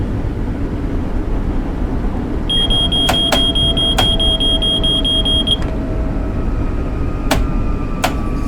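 The cab buzzer of an LIRR M9 train in a Long Island Railroad train game sounds a sustained electronic tone for about three seconds. Sharp clicks and thuds follow over a loud, constant rumble of the moving train.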